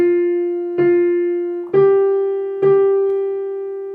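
A piano plays four struck chords with the sustain pedal lifted between bars, each chord ringing cleanly and decaying before the next, solo and close.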